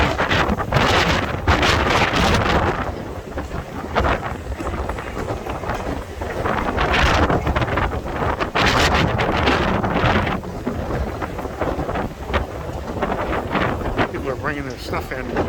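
Strong wind gusts buffet the microphone at the Hermosa Beach pier on Pier Avenue, a loud, steady roar that carries on beneath occasional talking.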